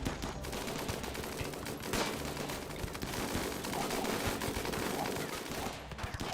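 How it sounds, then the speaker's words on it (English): Frag grenades explode in a video game on a shallow-water map, a dense, continuous barrage of overlapping blasts and gunfire-like bangs rumbling throughout without letup. "That is so many frag grenades getting tossed."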